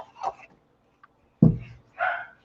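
Indoors during a cardboard and felt craft project, a dog gives a few scattered short barks and yips, loud at moments and separated by quiet gaps.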